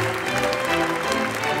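An audience applauds award winners at the European Heritage Awards 2017 ceremony in Turku. The applause is a steady, dense wash of many hands in a large hall, with music or tonal sound underneath.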